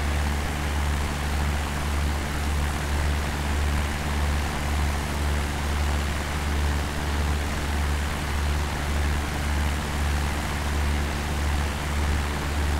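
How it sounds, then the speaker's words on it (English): A light propeller aircraft flying over North Wales near the Menai Straits drones steadily from inside the cabin, a loud, unbroken engine and propeller roar with no pauses. "used only for light aircraft such as the one we are flying in at the moment"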